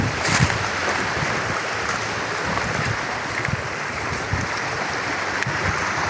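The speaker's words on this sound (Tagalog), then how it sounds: "Medyo magandang alon" Sea waves wash steadily around a small fishing boat off the rocky shore of Calubacan, Cardona, Rizal, a continuous broadband rush of water and wind with occasional low knocks against the hull.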